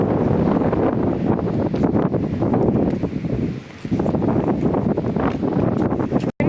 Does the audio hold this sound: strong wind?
yes